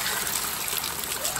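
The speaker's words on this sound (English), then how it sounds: "just about ready to drop the coolant, and it's going to go everywhere but where we actually want it to go." Engine coolant drains out of an RB20 Cefiro in a brief, steady, close trickle and splash of liquid, with no voices.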